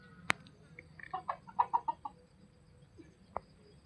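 Chickens kept beside a house cluck in a short, quick burst of soft calls. A sharper single sound comes before the burst and another follows it, all faint against a quiet background.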